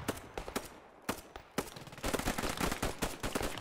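MP40 submachine gun fire in the Post Scriptum World War II shooter, with sharp single shots and short bursts that build into sustained rapid automatic fire, loud and close, with no talking.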